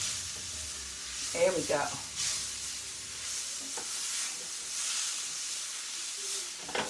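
Jackfruit sizzles in coconut oil in a pan, a steady soft hiss and crackle with brief stirring scrapes near the start, and a voice speaks briefly.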